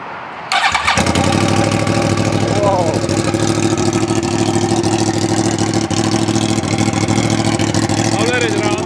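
A Yamaha R1 crossplane motorcycle with no exhaust fitted starts up and settles into a loud, steady, raw idle with a rough pulsing drone, close to the microphone and continuous.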